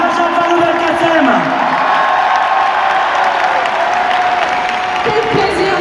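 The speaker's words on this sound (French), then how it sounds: "Je vous demande de lui faire un tonnerre d'applaudissements." A large audience applauds at a Benoît Hamon political rally at Bercy, a dense, sustained wash of clapping and cheering with tonal sounds running through it for the whole stretch.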